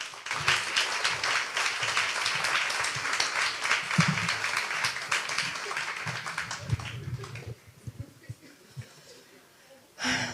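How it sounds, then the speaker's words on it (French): An audience at a conference applauds a speaker, dense sustained clapping that carries for several seconds and then thins out, with a few closer claps and some murmuring underneath. "On l'applaudit."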